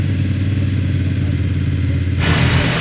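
BMW F900 GS enduro-pack motorcycle, 2025 model, engine idling loudly close by, then revving up sharply near the end.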